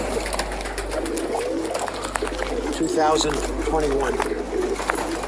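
Pigeons cooing in a loft, a soft throaty coo rising briefly in the middle over a low hum and background rustle, while a person talks nearby.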